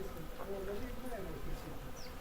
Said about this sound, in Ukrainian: на Оріхові поприлітала куча бджол